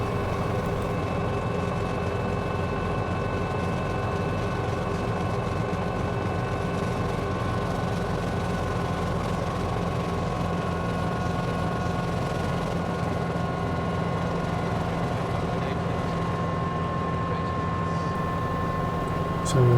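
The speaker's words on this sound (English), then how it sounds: "this is kind of an approach to landing in a helicopter" Steady, droning helicopter engine and rotor noise heard from inside the cabin during an approach to landing, constant and loud throughout, with a faint voice underneath.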